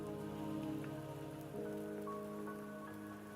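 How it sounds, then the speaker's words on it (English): Steady rain falls in a video game, a continuous even hiss of drops over a soft sustained tonal backdrop, with no talking. "Don't worry, the rain won't last much longer."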